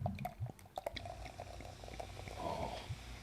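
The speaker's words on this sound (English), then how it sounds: "Oh, listen to that fizz." Dark Belgian-style beer fizzes and crackles in a glass after pouring, a close, soft bubbling with small drips and clinks.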